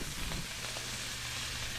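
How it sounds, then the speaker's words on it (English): A meat mixture sizzles steadily in a hot non-stick pan, a constant bright crackling hiss with a few small pops, close and moderately quiet. "now that this meat mixture is almost done, what you want to do, see, now that it's sizzling"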